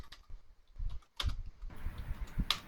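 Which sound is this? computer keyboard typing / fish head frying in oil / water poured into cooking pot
computer keyboard typing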